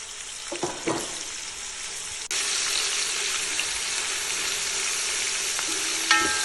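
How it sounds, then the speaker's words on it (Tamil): Thinly sliced onions fry in oil for chicken biryani, a steady crackling sizzle heard alone, with some stirring scrapes early on and a brief metallic clink at the end. "வெங்காயம் மெலீஸாக கட் பண்ணி வச்சுருக்கோம் அதை போட்டு எண்ணெயில் வதக்கிக்கலாம்"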